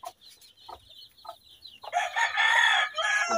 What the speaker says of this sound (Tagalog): Dito yung mga sisiw natin. So ano, magsasampung araw na sila.